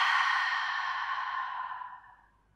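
A long, breathy exhalation during a Pilates mat leg workout, close and soft, sustained for about two seconds before fading out; no talking.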